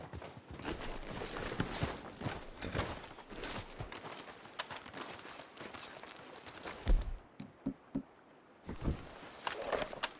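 Horses walk in Red Dead Redemption 2, their hooves clip-clopping in an irregular close rhythm that thins into a few separate heavy steps toward the end, with game ambience behind.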